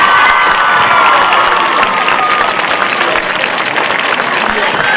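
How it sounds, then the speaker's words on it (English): Dense crowd cheering and applause fill a high school football stadium during a homecoming queen announcement, loud and steady throughout with shouting voices mixed in. "One more time, a nice round of applause for our queen"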